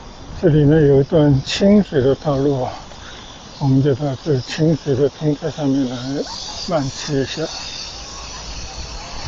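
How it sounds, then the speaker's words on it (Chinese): Cicadas keep up a loud, steady, shrill buzz beside a riverside cycling path along the Danshan River, running continuously under someone speaking close to the microphone. "这个耳朵听到都知了的叫声"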